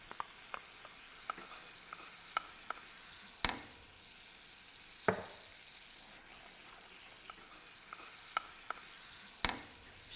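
Creme fraiche is stirred into a quietly sizzling pan, a soft steady frying hiss broken by scattered spoon taps and a few sharper knocks against the pan, with no talking.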